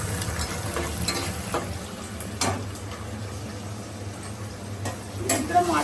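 Onions fry in a pan for chicken biryani, giving a steady close sizzle with scattered stirring clicks, while a voice talks over the cooking.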